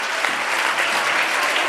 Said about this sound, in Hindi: उसके लिए जोरदार तालियां बजा दो बच्चों।